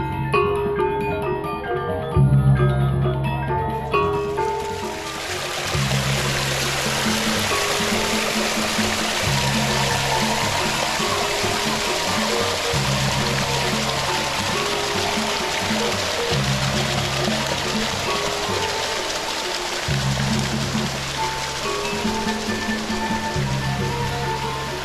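A river runs near the Kanto Lampo waterfall with a loud, constant rush of flowing water that covers everything, while a low rhythmic rumble pulses underneath throughout.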